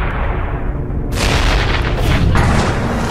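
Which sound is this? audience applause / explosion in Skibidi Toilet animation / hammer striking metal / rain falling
explosion in Skibidi Toilet animation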